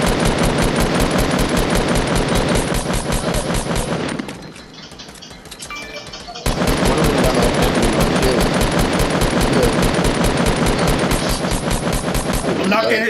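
Rapid automatic gunfire from a Fortnite battle royale squad match, loud and dense bursts filling most of the time with a short quieter gap in the middle, players talking over it.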